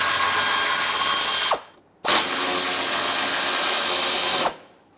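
A power tool spins out 10mm fasteners from the underbody shields of a 2012-2017 Toyota Camry: two loud, sustained whirring bursts, the first about a second and a half long and the second longer, separated by a short pause.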